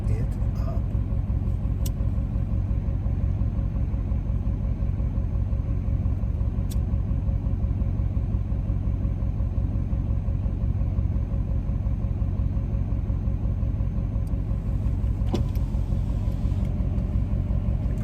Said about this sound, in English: You probably hear my truck running.